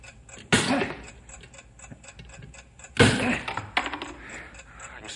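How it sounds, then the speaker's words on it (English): Steady ticking of a bomb's timing device in a radio drama, a regular mechanical tick running throughout at moderate level, with two loud bursts of struggle noise and movement breaking over it. "I can still hear the ticking, Bill."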